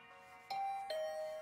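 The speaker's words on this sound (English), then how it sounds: "The doorbell works!" A two-note ding-dong doorbell chime rings in the video game The Hundred Line -Last Defense Academy-, with two clear tones a moment apart and the second ringing on steadily, heard alone with no talk.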